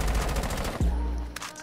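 Automatic gunfire from a weapon in the video game Rainbow Six Siege, a loud rapid rattling burst that cuts off abruptly, followed by a lingering metallic ring and a brief faint click.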